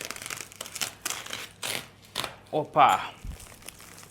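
Crinkling, tearing package material as a long cardboard box is opened in an unboxing, with short crackly rips and rustles between bursts of nearby speech.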